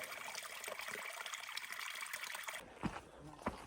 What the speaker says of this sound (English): Ah, the sweet sound of nice water.